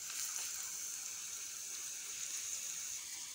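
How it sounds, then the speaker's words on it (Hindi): Curry leaves and Kashmiri chili sizzle in hot ghee, a tempering for Rajasthani kadhi, giving a steady, close, even hiss and crackle with no talking. "अब जो कढ़ी बनी हुई है उसी में बढ़िया सा एक तड़का लगा देते हैं।"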